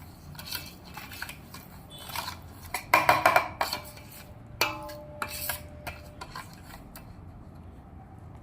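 Sweet raw mango pickle mixture is stirred with oil in a pot, with scattered metallic scrapes and clinks of a spoon against the vessel, sharper clusters around the middle, close and without speech.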